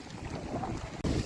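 Wind gusts loudly across the Gadhki dam reservoir, buffeting the microphone over the wash of choppy waves, with a brief dip before the roar returns.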